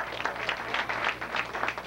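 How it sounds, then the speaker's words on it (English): Audience applause at a fundraising lecture evening, a brief, moderate burst of many hands clapping at a steady pace, heard from within the room with no talk over it. "You give yourself a round of applause."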